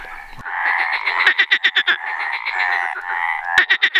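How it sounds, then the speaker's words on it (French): Green frogs and Mediterranean tree frogs calling from a pond at night in the Cévennes: a loud, continuous croaking chorus with rapid pulsed trains of calls cutting through a steady droning trill, close by. "Une belle mare, animée par les chants de grenouilles vertes et de rainettes méridionales"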